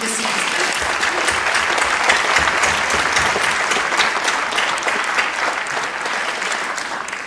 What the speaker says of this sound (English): I really would like to give them a round of applause